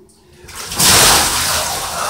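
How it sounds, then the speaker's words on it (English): Ice water from a bucket pours over a person in a sudden loud gush and splash that rises sharply and keeps rushing and spattering for over a second, with a quieter lead-in before it. "This bucket of water. You know where it goes"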